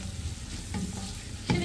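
Onions and peppers fry in butter in a home kitchen pan, with a steady close sizzle and a couple of brief stirring scrapes. No one speaks.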